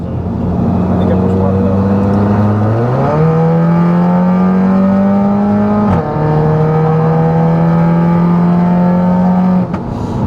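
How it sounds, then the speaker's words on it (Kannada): BMW 340i M Sport with a de-catted exhaust revving loudly and steadily up close, its engine note climbing in stepped pitch jumps through about ten seconds, with no talking over it. "ಒಳ್ಳೆ ರೇರ್ ಮೌಂಟೆಡ್ ಇಂಜಿನ್ ಥರ ಬರ್ತಾ ಇದೆ ಸೌಂಡ್"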